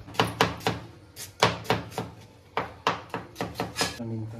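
Onions chopped on a board by hand, a quick irregular series of close, crisp knife thunks in short bursts with brief pauses.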